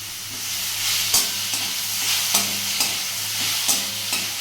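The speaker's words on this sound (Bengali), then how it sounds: "এগুলো এখন আমি এই ভাজা পেঁয়াজটার মধ্যে দিয়ে দেবো তারপর এটাকে একটু নাড়িয়ে চাড়িয়ে" Spices stirred into fried onions in a pan, for soybean rolls: a steady close sizzle broken by regular scraping strokes of a spatula, with no talking.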